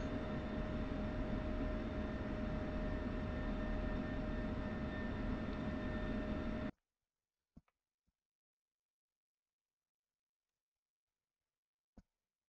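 Aircraft taxiing for takeoff in the DCS flight simulator, a loud steady engine roar that cuts off abruptly, followed by near silence with a few faint clicks.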